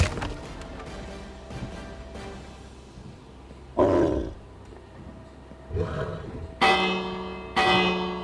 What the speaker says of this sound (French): La cloche. Je suis sauvé.